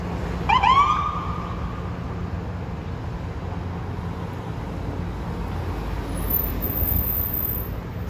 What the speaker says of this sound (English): Ambulance has arrived at the Eisenhower Executive Office Building.